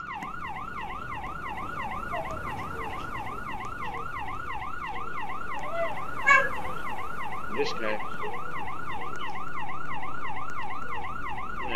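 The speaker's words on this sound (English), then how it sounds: "Turn his freaking siren off, man." A police siren in Roblox wails, cycling rapidly up and down, loud and continuous, with a brief spoken remark and a couple of bumps partway through.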